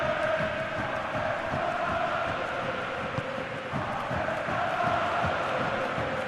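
Stadium crowd noise in a soccer video game: a steady, dense roar of cheering fans that holds at an even loudness throughout, with no voices standing out.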